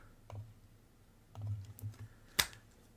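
Computer keyboard typing, a few light, scattered keystroke clicks in short bursts, closing with one sharper tap, heard faint and close in a quiet room with no talking.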